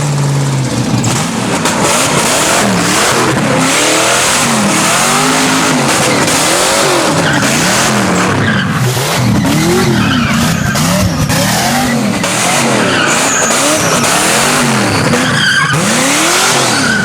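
A Mazda RX-7 drift car skids continuously with loud squealing tires and a revving rotary engine rising and falling in waves, close and unbroken throughout.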